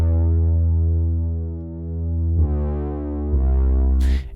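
A deep, sustained bass from a sad pop song production, with tube saturation, drones heavily and shifts pitch twice before a short noisy burst near the end, loud and alone.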